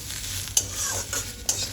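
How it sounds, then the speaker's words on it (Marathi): Finely chopped tomato sautéing in a pan with browned masala for chicken Hyderabadi, a steady bright sizzle with two sharp scraping stirs of a spatula, close and alone without voices. "यामध्ये मी आता थोडा बारीक चिरलेला टमाटा टाकून घेणार आहे आणि थोडा परतवून घेणार आहे"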